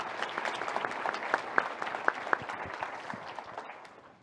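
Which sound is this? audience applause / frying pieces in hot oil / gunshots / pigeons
audience applause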